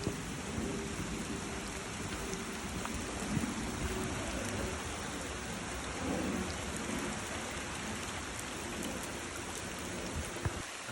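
Steady rain falling on a forest trail along a stream on the Bull-Run Occoquan Trail, a constant soft hiss of drops with occasional closer patters and a low rushing undertone, fairly quiet with no voices.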